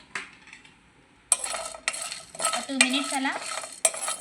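Dry scraping and clinking of a spoon stirring dried chillies, chana dal, cloves, cardamom, coriander seeds and dry coconut roasting in a pan, with bursts of activity after a quiet start and a brief voice.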